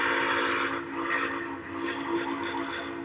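A locomotive's whistle in a train simulator video game sounds as a steady, sustained tone held for about three seconds over a broad, constant rumble.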